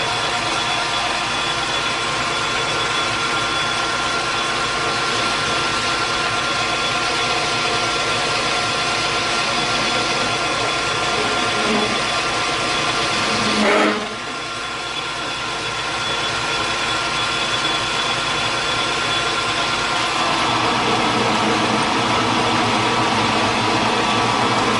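Logan 8-inch shaper machining a feed plate on the verge of chatter, a loud steady mechanical drone with a constant hum, briefly dropping and recovering partway through before continuing evenly.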